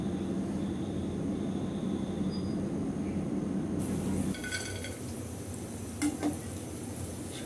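Crispy deep-fried okra stirred in hot oil and lifted out, a steady frying hiss giving way to brittle clinks and rattles of the pieces against the utensil, close by with no talk.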